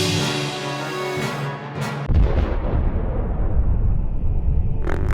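A laboratory centrifuge spins in a lab. A high whine winds down over the first two seconds, then a loud, steady rumbling roar continues to the end.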